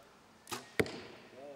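An arrow strikes a target at a compound archery junior women's bronze final, a single sharp thwack preceded by a brief whoosh, clear and fairly close against quiet ambience.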